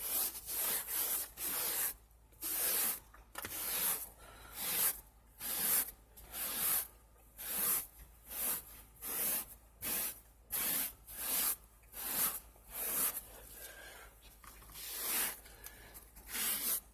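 Cleaner sprayed onto dirty spots of RV carpet: a long run of quick, close, hissing trigger-spray bursts in an irregular rhythm, some short, some doubled, with no talk.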